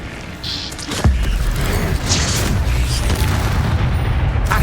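Incendio fire spell cast in the Hogwarts Legacy video game: a sudden loud booming burst that hits hard and then rolls on as a sustained roaring rumble, with brighter whooshing flares layered on top.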